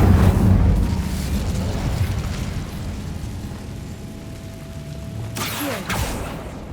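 The Incendio fire spell cast in Hogwarts Legacy erupts in a loud, close burst of whooshing flame that rumbles and fades, followed by a second sharp pop and swoosh near the end.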